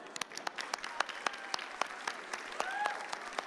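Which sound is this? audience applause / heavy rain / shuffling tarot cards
audience applause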